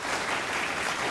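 Brief burst of dense clapping, moderately loud and continuous, lasting about a second.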